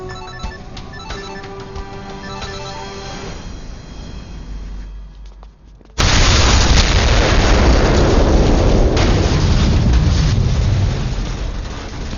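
A ringing phone tone repeats for several seconds, then a heavy film bomb blast erupts abruptly, a loud sustained roaring rumble that slowly fades but stays dense to the end.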